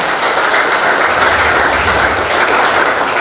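Audience applause at a corporate sharing event, a dense, even clatter of many hands clapping loudly and continuously throughout, with no voices over it.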